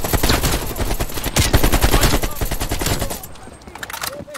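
Rapid machine gun fire in the video game Call of Duty Black Ops Cold War: loud sustained bursts of gunshots with explosive cracks, tapering off toward the end.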